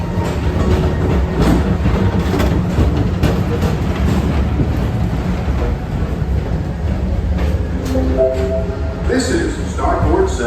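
Space Mountain roller coaster at Magic Kingdom running, a steady loud rumble of ride vehicles rolling on track with clattering, with faint screams and voices mixed in and brief tonal whines near the end.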